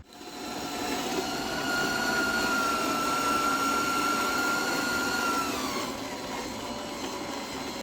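RC model tanks drive at a military museum at dusk, giving a steady whining motor drone with a held mechanical tone that eases off near the end, no voices.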